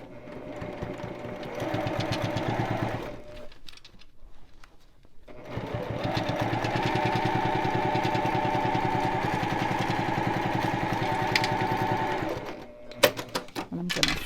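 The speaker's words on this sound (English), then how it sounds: "I'm going to sew the vinyl to the bottom piece now" A sewing machine stitches glitter vinyl to a fabric bag bottom piece with a 3/8 inch seam, running in two steady, fairly loud bursts of rapid needle chatter separated by a brief pause.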